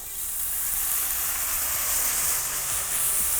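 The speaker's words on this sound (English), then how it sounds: "So I've got a nice German beer here. A little bit of beer in the pan." Splash of German beer deglazing a hot pan, producing a strong steady hiss of sizzling and steam that stays loud and even throughout, heard close up with no voices.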